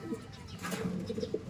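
A pigeon's soft, low cooing, several throaty pulses close by with a little background noise and no talking.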